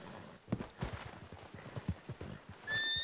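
A horse summoned by a player in a video game whinnies and clip-clops, its faint hoofbeats in an uneven walking rhythm and a brief neigh toward the end.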